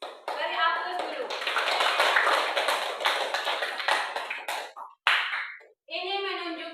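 Applause from a classroom group fills the air as a dense, continuous patter of clapping hands that fades out, broken briefly before a voice speaks.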